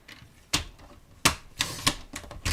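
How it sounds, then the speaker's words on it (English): A paper trimmer slicing gold shimmer paper for a card, heard close up as a few sharp, crisp cutting snaps spaced irregularly, with no talking. "I'm going to trim that off a bit so I don't have to do it with my scissors"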